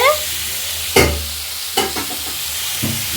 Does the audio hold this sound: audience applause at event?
no